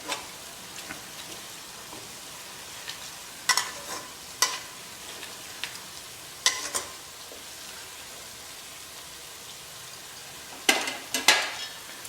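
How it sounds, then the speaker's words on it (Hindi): Onions fry until brown for mutton korma, a quiet steady sizzle in the pan broken by occasional sharp scrapes and clinks of a stirring spoon. "प्याज हमारे बढ़िया ब्राउन हो गए हैं।"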